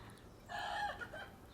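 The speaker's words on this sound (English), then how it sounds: "that's my brother-in-law's chickens trying to drive away some crows" A rooster and hens on a farm clucking and calling out in a short, agitated burst while trying to chase off crows, moderately distant against low background rumble, with no voices.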